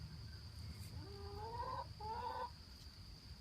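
Backyard urban chickens cluck and murmur in a few short, warbling calls, fairly close, over a low steady background hum.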